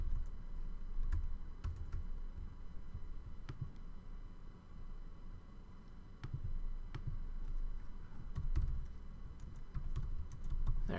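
Computer keyboard keys tapped in irregular bursts while code is written, soft clicks spaced across a low room hum, close and fairly quiet, with no talking.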